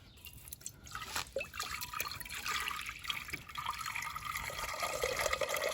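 Water trickles and pours steadily into a bowl for mixing cement, a continuous splashing that grows slightly fuller as it goes on.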